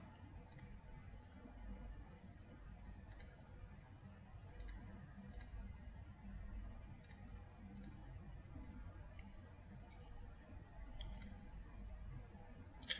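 Computer mouse clicks on a desk, sharp isolated taps, some single and some in quick doubles, spaced irregularly over a faint steady background hum.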